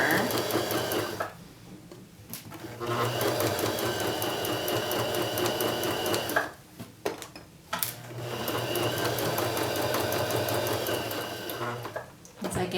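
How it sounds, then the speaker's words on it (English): A sewing machine stitches a dart along a pinned line on fabric, running in steady, rapid bursts that stop briefly twice as pins are pulled, close and clear. "I'm sewing along the pin line and removing the pins, trying to keep in line with where the pins were."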